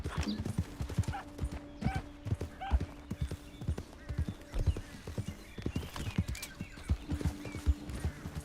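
Horse hooves clip-clop in a steady rhythm throughout, fairly close, with an occasional whinny, a low sustained hum and some faint voices mixed in.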